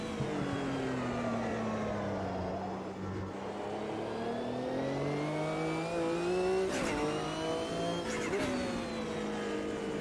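A Group C race car in Automobilista 2 sings a loud, continuous engine note whose pitch rises and falls as the throttle opens and closes, with short lifts and surges near the end and no voices.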